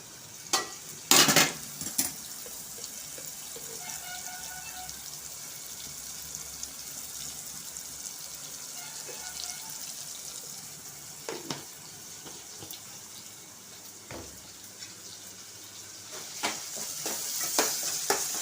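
Onions, green chillies and ginger paste with turmeric and salt fry in oil for a coconut milk bagara rice, heard as a soft ongoing sizzle with a few sharp knocks and stirring clatters.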